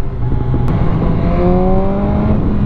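A BMW S1000R motorcycle engine revs and pulls up through its range, its rising tone loud and close, with no one talking over it.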